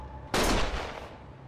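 A single loud gunshot blast with a short ringing tail fires in Yakuza: Like a Dragon, standing alone with no talk over it.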